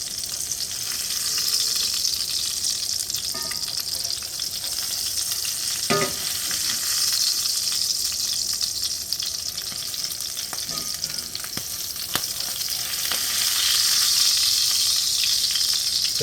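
Beef patties for Salisbury steak sizzle loudly and steadily in a frying pan, a dense continuous hiss and crackle with a few faint clinks of a utensil.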